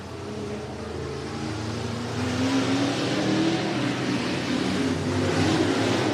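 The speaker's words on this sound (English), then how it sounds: "We're getting ready to go green flag racing." Race cars at Merced Speedway, a dirt oval in California, roll toward the green flag, engines droning together and swelling louder as the pack accelerates, a rising rev tone emerging over the steady rumble.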